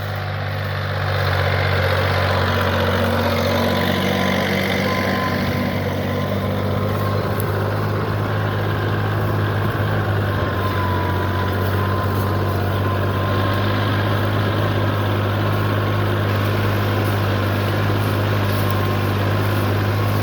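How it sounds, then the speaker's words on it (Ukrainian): A YTO 244SX tractor working a Vinmet 2×25 plough in a straw-covered field of heavy black soil, its engine droning loud and steady up close with a constant low rumble and no voices. "Трактор Юто."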